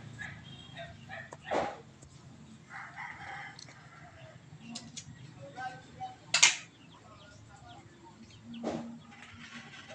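A Texas breed rooster crows nearby, a loud call rising over faint background clucking and chatter from other chickens.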